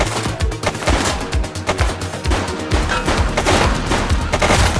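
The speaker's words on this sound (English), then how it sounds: "Shots fired!" Rapid gunfire in a police video game, a loud, fast barrage of overlapping shots and bursts, continuous and close throughout.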